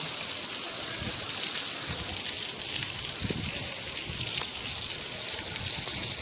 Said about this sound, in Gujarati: તો તમે જોઈ શકો વરસાદ ચાલુ થઈ ગયો.